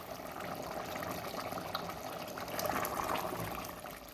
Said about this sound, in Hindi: 2 गिलास गर्म पानी डाल लेते हैं।